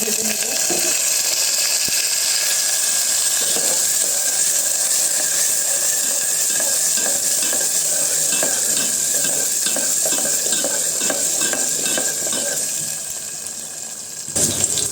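Moong dal, potatoes and dried chilli frying in oil, a loud, dense, close crackling sizzle that runs steadily and eases slightly near the end.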